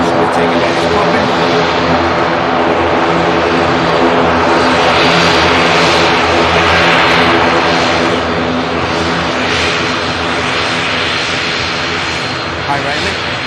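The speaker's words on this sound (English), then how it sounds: "We have an aircraft almost on the very finals" An aircraft on final approach to land at Manchester Airport makes a loud, continuous engine drone with layered tonal hum that stays steady and close throughout, with a voice speaking over it.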